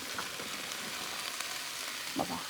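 Spinach greens (saag) sizzle in a frying pan, a steady soft hiss of frying with a couple of light stirring bumps near the end.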